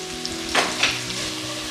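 Sliced onions softening in a hot pan with salt for chicken biryani, a soft steady sizzle near at hand with two brief louder stirring scrapes partway through, no talking.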